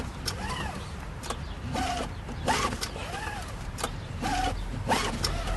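Priming pump on a Kipor IG1000P inverter generator is worked by hand, making a series of about six creaky, squeaky strokes in a steady rhythm, close and fairly loud.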